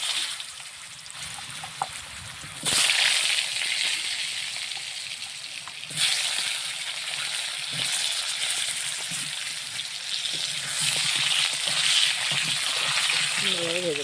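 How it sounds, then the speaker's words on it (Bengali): Potatoes are dropped into hot oil, and the crackling sizzle surges suddenly, then stays loud and steady with faint bubbling over several seconds. "আলু কটা তেলে দিয়ে দিলাম।"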